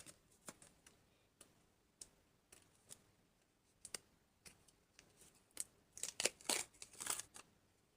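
A small collectible packet being torn open by hand, with soft clicks and taps early on, then a louder burst of crinkling and ripping near the end, close and without talk.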